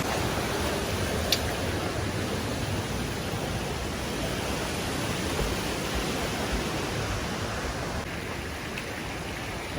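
Leura Falls in the Blue Mountains pours in a steady, broadband roar of falling water, continuous and fairly close, with no voices over it.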